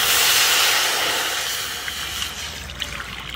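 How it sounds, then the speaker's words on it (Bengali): Water pouring and hissing into a wok set on the heat for making puli pitha, a steady broadband rush that slowly fades into faint trickles and small splashes. "আর কড়াইটা বসিয়ে দিচ্ছি, পিঠা বানানোর জন্য জল দিচ্ছি।"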